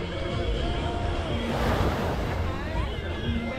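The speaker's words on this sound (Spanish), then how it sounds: "Para que sintáis de que estáis aquí sentados, escuchando las olas." Sea waves washing onto the beach at Paamul on the Riviera Maya coast, a steady close wash of surf with gusts of wind noise on the microphone, continuous and fairly loud throughout.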